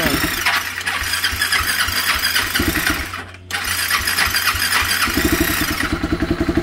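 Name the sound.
390 motorcycle engine starting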